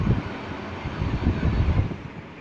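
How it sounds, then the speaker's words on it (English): Sansui 37 L room air cooler fan blowing air hard, a close, breathy whoosh with low, fluttering rumble that swells and eases slightly, heard alone. "I mean, the wind blows very fast."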